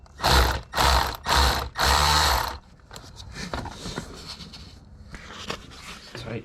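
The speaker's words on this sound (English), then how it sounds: "He's working on the brackets first, so we're taking off all these bolts." A ratchet wrench loosens long supercharger bracket bolts on a 700 hp 5.0 engine, giving four loud, close bursts of rapid clicking in the first half, followed by quieter tool handling and light clatter.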